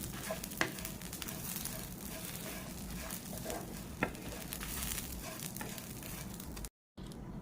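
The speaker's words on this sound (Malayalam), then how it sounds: "ഒരു സ്പൂൺ മഞ്ഞൾ നല്ലപോലെ വറുത്തെടുക്കാം." Turmeric dry-roasting in a pan for a Kerala-style fish curry masala, a soft continuous crackle and hiss with a few sharp ticks of stirring, fairly quiet, and a brief cut to silence near the end.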